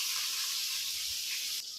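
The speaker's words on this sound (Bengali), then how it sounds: "বৌদি এখানে ভেজে ভেজে সব রাখছে" Food frying in a pan, a steady close hiss and sizzle of hot oil running unbroken with no voices, dipping slightly at the very end.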